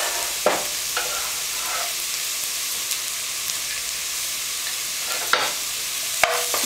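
Onions and garlic fry in a pot for butternut squash soup, a steady close sizzle with a few sharp scrapes and knocks of a stirring spoon.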